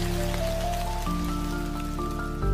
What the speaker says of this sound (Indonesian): Langit menurunkan hujan